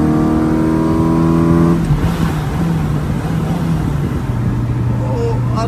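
Car engine revving hard under acceleration, a loud sustained roar with a rising drone that breaks into rougher noise as it climbs, heard up close from inside the vehicle.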